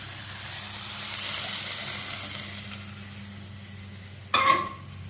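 Onions sautéing in a pan for adai batter, a soft steady sizzle with faint stirring, then a brief sharper clatter near the end.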